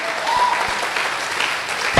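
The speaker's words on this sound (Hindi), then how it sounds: "मैं चाहता हूं महागुरु जी के लिए दमदार वाली ताली होनी चाहिए" An audience at a Safe Shop achievement event gives hearty applause, a dense, steady clatter of many hands close by for the whole stretch, with a faint voice underneath.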